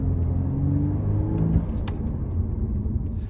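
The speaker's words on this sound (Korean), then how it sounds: "지금 이제 잠깐 가속을 잠깐 하고 브레이킹을 해볼게요." A 2022 Audi A5 Cabriolet 45 TFSI quattro accelerating briefly and then braking, heard as a steady close rumble of engine and road noise that swells slightly and stays continuous throughout, with no talking.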